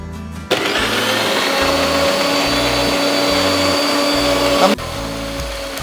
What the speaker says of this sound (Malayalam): അടുത്തത് നമുക്കിതൊന്ന് മിക്സിയിലടിച്ച് ഒന്ന് പേസ്റ്റ് രൂപത്തിൽ നമുക്ക് ലൂസാക്കി എടുക്കാം.